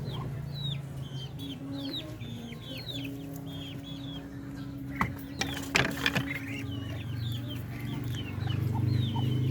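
Farm chickens clucking in a run of repeated short calls over a low steady mechanical hum, with a few louder knocks partway through and no talk.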